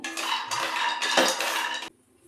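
Cashews fry in a pan for dry fruit laddu while a utensil scrapes and stirs them, making a close, loud rasping clatter of metal on the pan that stops abruptly near the end.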